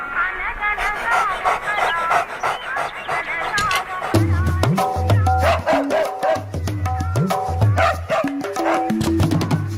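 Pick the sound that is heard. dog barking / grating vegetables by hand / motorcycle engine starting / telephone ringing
dog barking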